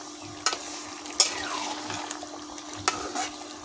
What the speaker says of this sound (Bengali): আমি তরকারি আবারও ভালো করে নেড়ে দিলাম